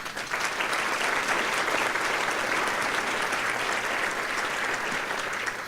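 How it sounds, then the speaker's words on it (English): Audience applause at a breakfast event honouring award winners, a loud, dense, sustained round of clapping from a large crowd that holds steady throughout. "let's give one more round of applause for our Star Visionary Award winners."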